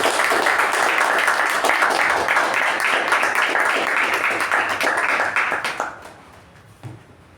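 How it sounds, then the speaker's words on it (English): An audience at a Toastmasters club meeting gives a dense, loud round of applause that holds steady for several seconds, then quickly fades to near silence. "a thunderous round of applause"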